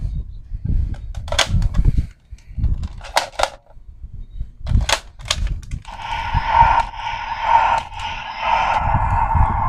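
A DX Zolda Dragvisor toy gun clacks as its card slot opens, with sharp plastic clicks and snaps followed by a bright electronic chime and tune, close-up, with some low handling noise.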